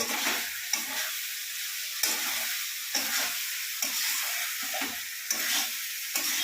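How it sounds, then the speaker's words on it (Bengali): Potatoes being sautéed with spices in a pan for a paneer dish, a steady sizzle broken by repeated scraping stirs of a spatula, close and moderately quiet with no talking. "এটা আলুটা মশলার সঙ্গে কষানো হচ্ছে"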